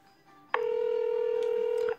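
An electronic telephone tone sounds loud and close, a single sustained steady beep starting abruptly and holding for well over a second, alone with no talk.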